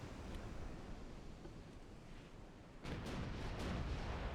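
Battleship guns firing in a 1905-era naval video game battle, distant booming salvos over a steady ocean-like rumble, with a louder run of shots in the last second and a half.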